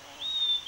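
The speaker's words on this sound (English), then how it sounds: "A nearby bombax tree attracts a rose-ringed parakeet." A rose-ringed parakeet in a bombax tree in Manas Tiger Reserve gives a single thin, drawn-out high call that ends in a short upward flick. It is moderately loud against quiet forest background.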